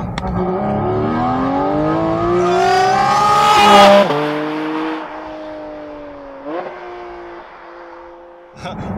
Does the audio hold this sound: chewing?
no